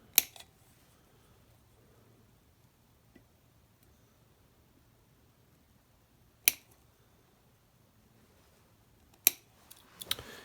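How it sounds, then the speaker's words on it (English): Wire cutters snip through wiring on a Harley-Davidson Evo motorcycle: a few sharp, isolated clicks spaced several seconds apart, with a faint hum in between and no voices. "I'm going to cut these wires."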